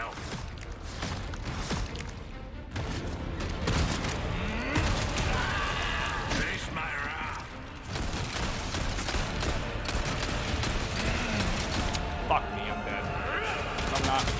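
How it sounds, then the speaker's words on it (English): Rifle gunfire in the Resident Evil 4 Remake Separate Ways DLC during a fight with Saddler: dense, loud bursts of shots and impacts cracking almost nonstop, with a player talking excitedly over the battle. "Bro, this rifle's strong."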